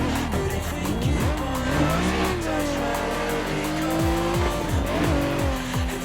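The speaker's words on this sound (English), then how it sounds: "and then here we go, we're spinning out." A modded Nissan 350Z street car in a racing game revs hard while its tires squeal and skid through a spin-out, engine pitch sweeping up and down under sustained screeching, loud and close.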